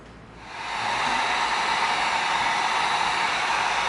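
A heat gun spins up and blows steadily on EVA foam, a close, loud, even hiss of rushing air that rises in the first second and then holds constant, with no talking.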